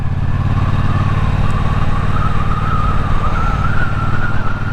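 Motorcycle cruising along a road on a warm February day, with a loud, steady engine drone and heavy wind rumble that barely changes as the rider holds speed.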